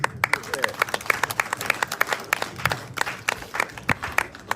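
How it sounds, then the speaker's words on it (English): Lively scattered clapping from a village outreach gathering in the South Rupununi, loud and irregular over a few seconds with some crowd murmur mixed in. "I think she deserves a louder round of applause"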